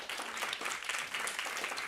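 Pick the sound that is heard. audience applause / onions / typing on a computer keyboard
audience applause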